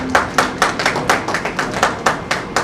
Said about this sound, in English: Round of applause for the Dipti ma'am and the daughter-in-law lady.